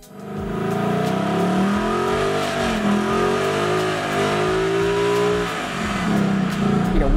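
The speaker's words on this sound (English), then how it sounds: "This vehicle, the 2018, has the new option of an active exhaust, and this thing just sounds incredible" A 2018 Ford Mustang GT V8's active exhaust roars close by, the engine note climbing and dropping through several pulls, deep and throaty, then easing off near the end.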